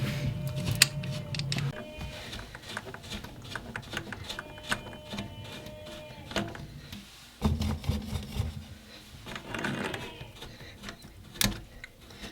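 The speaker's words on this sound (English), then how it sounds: "and then we'll just start screwing it down." A plastic nut is screwed by hand onto the threads of a new toilet fill valve post during a Korky universal kit install, making a close, steady scraping and rubbing rattle with a few sharper clicks.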